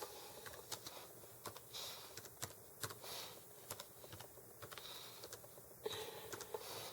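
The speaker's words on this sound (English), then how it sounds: "I'm so slow with one hand typing." Slow, uneven keystrokes on a computer keyboard typed with only one hand, with irregular clicks and short pauses, close and moderately loud against a steady background hiss, with no talking.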